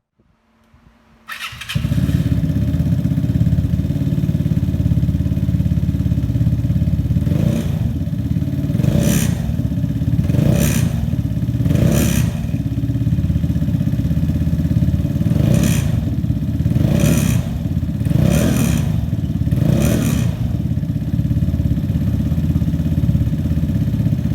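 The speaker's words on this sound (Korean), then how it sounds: "엔진 사운드도 들어보겠습니다" A used Vespa Sprint 125 ABS scooter with an Akrapovic exhaust starts and runs steadily close by, with several sharp revs rising above the idle at irregular intervals.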